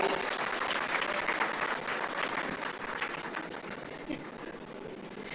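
Audience applause fills the room at a formal gathering, a dense sustained clapping that stays fairly even and slowly eases in level.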